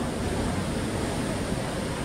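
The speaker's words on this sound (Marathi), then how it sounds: "हा बघा, हा सगळा विस्तीर्ण पसरलेला समुद्र" Waves of the Indian Ocean at Tanah Lot in Bali make a continuous broadband rush of surf, loud and unbroken, with no voices.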